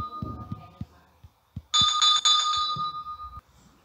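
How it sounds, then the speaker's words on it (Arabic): Electronic doorbell chime rings at a house door, a bright two-tone ding-dong that lasts under two seconds, loud and close, with thuds and knocks around it and no talk. "يلا بينا ندق الجرس بس شوي"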